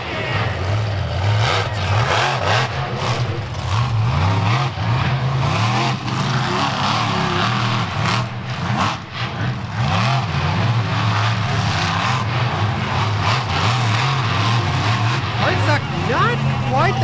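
Racing trucks on the beach at Wildwood, New Jersey, roaring and revving hard through their runs with repeated rising and falling engine pitch, loud and close, under ongoing commentary.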